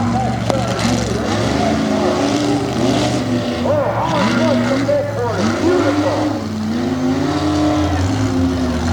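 Race trucks competing in a championship race at Meyersdale, Pennsylvania, with engines rising and falling in pitch as they rev, loud and continuous, heard under steady commentary.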